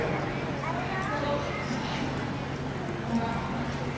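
Soft rhythmic hoofbeats of a gaited horse cantering run under steady background noise and faint talk.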